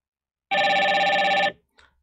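A telephone rings once with a clear electronic tone, a single loud burst of about one second on a call routed through a FreePBX SIP trunk, followed by a faint short blip.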